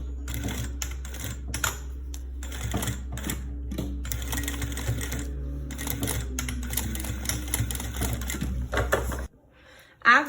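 A sewing machine topstitches synthetic material into bias binding for a baby document case, stitching in rapid mechanical bursts broken by short pauses, then stopping, with a faint voice briefly heard.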